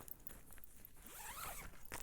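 The zipper on a sewn garment bag is dragged along in one steady, close pull with a quick final tug, and no one speaks.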